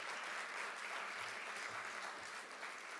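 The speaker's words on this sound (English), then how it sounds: "I want to give everybody a round of applause from me to you" Applause from a live audience at an award ceremony, a steady, faint wash of many hands clapping together, distant and even throughout with no voices rising above it.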